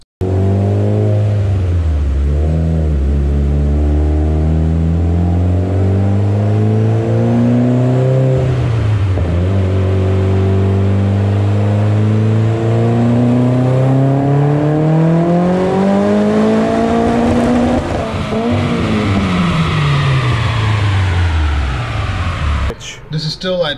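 A turbocharged Mitsubishi Evo X with a Garrett GTX-3576 Gen 2 turbo, GSC S2 cams, stock block and E85 flex fuel revs hard on a dyno. Its loud, close engine note climbs and falls repeatedly, breaking up near the end.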